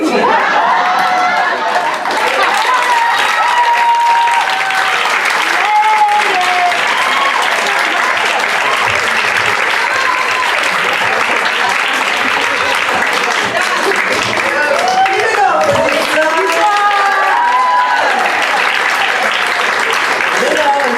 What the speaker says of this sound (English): Keep that clapping going.